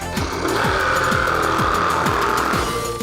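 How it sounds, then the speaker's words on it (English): A jigsaw cuts steadily with a loud, continuous motor whine and a rapid, regular chattering pulse from the reciprocating blade, close by. "I have been recommended to use a jigsaw"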